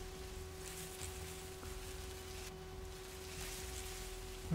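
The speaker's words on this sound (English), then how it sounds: "I'm glad it's raining." Steady rain hisses throughout a tense scene in The Walking Dead: 400 Days game, a constant broadband wash at moderate level, with a low steady drone beneath it and a brief thump at the very end.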